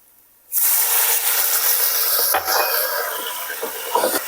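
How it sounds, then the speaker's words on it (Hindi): Water splashed into hot oil with golden garlic in a pan bursts into a loud, sudden sizzle that stays strong and hissing for several seconds, with faint clatter of stirring near the end. "अब मैं इसमें थोड़े से पानी का छींटा दूंगी ताकि लहसुन जल ना जाए।"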